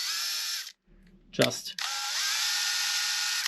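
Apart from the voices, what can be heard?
drill boring into a scale model part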